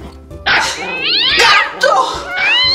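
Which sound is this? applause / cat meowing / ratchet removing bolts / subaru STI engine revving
cat meowing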